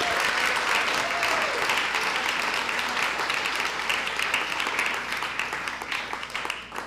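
Audience at a district LCAP meeting applauds Susana and the teachers, sustained dense clapping that stays loud for several seconds and then tapers off near the end, with a faint voice briefly over it.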